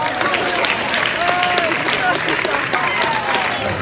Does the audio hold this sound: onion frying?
no